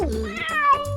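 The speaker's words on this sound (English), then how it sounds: "That's a cat meowing." A single clear cat meow, rising and falling over about a second, close and alone with no talking.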